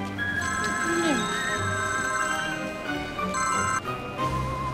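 A mobile phone rings with a trilling electronic ringtone, its tones going on and off across several seconds while people talk over it.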